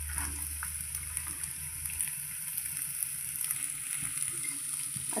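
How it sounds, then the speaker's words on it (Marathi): Onion and green chilli sizzle and fry in a pan, a steady close crackle with small stirring clatters throughout and no talking. "आता आपण हे मिक्स करून छान परतून घेऊया। कांदा जरासा गुलाबी रंगावर होऊ दे।"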